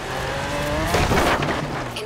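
A Jaguar E-Type in Forza Horizon 4 drives along with a steady engine drone and a brief rougher burst near the middle, close and alone.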